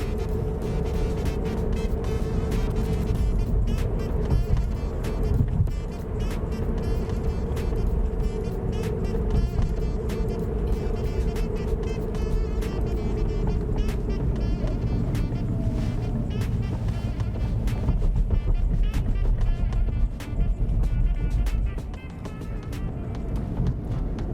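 A car drives steadily through a Polish driving test, its engine and road noise a continuous close drone for the whole stretch with a brief dip near the end; a little faint talk sits underneath.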